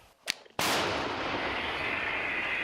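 An old artillery gun fires once with a sharp, loud blast, then a long rolling roar that trails off across the open ground, preceded by a brief smaller crack.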